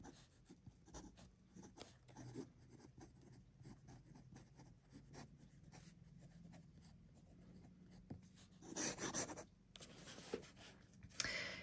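Dip fountain pen nib with an extender scratching across paper, a faint steady scritch of writing strokes with a few louder rasps near the end.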